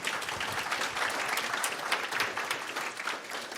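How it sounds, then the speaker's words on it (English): A live audience at a cybersecurity event in Pittsburgh, Pennsylvania claps for a speaker named Dawn, producing a steady, dense wash of applause that holds at an even level throughout, with no talking over it. "how about a round of applause for Dawn?"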